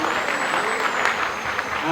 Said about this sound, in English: A big round of applause for Divyam.